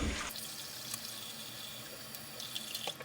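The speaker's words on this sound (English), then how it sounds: "I'm just going to fill up my sink with hot water." Hot water runs from a bathroom tap into a sink, a steady hissing, splashing flow heard close up and continuous throughout, with no voices over it.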